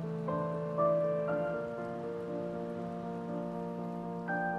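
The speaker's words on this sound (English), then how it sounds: "Look at our rain physics." Steady rain falling in the video game Heavy Rain, a constant hiss of rain on surfaces under sustained tonal game music, with no talk.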